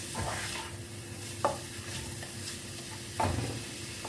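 A kabab mixture with chicken cubes being stirred and fried in a pan. A soft, continuous sizzle carries on while two distinct scraping stirs cut through it, close and moderately loud, and no one speaks.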